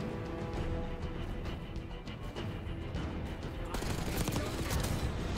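Rapid automatic AMES 85 assault-rifle fire in Black Ops 6, dense bursts of close gunshots running throughout and swelling louder near the end, with game effects layered underneath.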